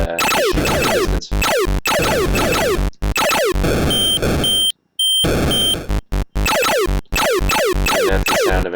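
A burst of Atari 2600 extra life sound effects from Asteroids: rapid rising and falling chiptune bleeps with harsh buzzy noise in the middle, loud and continuous with a few brief gaps.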